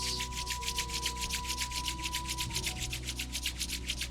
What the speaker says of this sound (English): Now rub your palms with full force to get some heat between the palms.